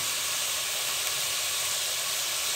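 Chicken frying in a pan while onions go in, giving a steady, loud sizzle and hiss that holds evenly throughout with no talking.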